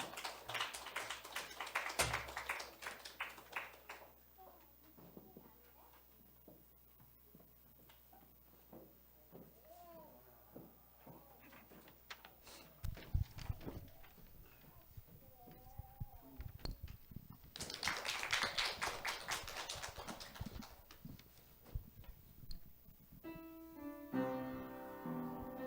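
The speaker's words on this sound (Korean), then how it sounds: "우리 박수로 환영해 주시기 바랍니다." A church congregation claps during a Sunday worship service, with bursts of loud applause at the start and again near the end and scattered claps and taps between them, then music enters.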